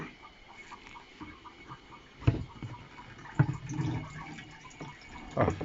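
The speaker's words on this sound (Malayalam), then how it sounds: "വെള്ളം വരുന്നുണ്ട്." Clear mountain water runs from a hose into a water tank, making a faint, uneven trickling and splashing with a few louder gurgling surges, distant and quiet, with no talking.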